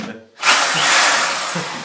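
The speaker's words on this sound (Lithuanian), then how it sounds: "Tai yra, gręžim sienas, Rasa labai nepyk." A power drill starts up and bores into a wall, its high whine loud and close and holding steady after a short quiet lead-in.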